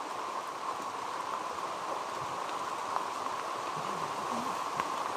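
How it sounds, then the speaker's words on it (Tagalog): Steady rain falls outdoors as a soft, even hiss with faint scattered drops, continuous and fairly quiet throughout. "Ulan lang pala mga tol."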